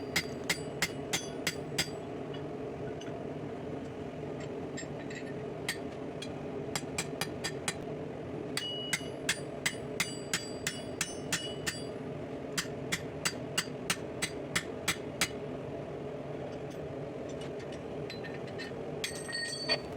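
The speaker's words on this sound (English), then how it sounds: "I'm going to go back over to the horn, and I'm just going to taper that handle a little bit longer and a little bit smoother" A hammer forges the steel handle of a spatula sword on an anvil horn in bright ringing clanks, struck in quick rhythmic runs with short pauses, close and clear over a steady low background hum.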